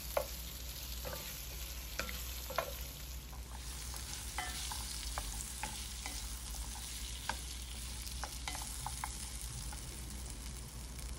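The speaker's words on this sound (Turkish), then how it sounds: "Patateslerle salçayı güzelce bu şekilde karıştıralım. Kızarsın." Potatoes and tomato paste sizzle steadily in a hot pan while a utensil scrapes and clicks through them repeatedly as they are stirred.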